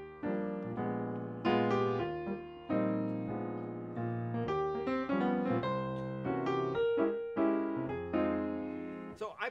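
A solo piano plays a Chopin nocturne reworked as a swinging jazz waltz, with rich chords and a lilting triple-time melody, close and steady with no talking.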